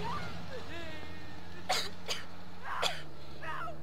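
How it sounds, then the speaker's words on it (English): A Call of Duty MW character coughs three times in quick, sharp bursts over a low steady background hum, with a voice speaking briefly beforehand. "They'll hear you coughing"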